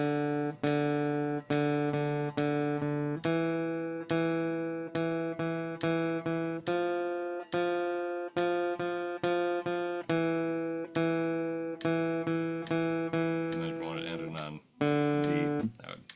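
A bass guitar plays a repeated line of distinct plucked notes on the fourth string, evenly spaced eighth notes ringing clearly and alone, each decaying before the next attack, with a brief muffled knock near the end.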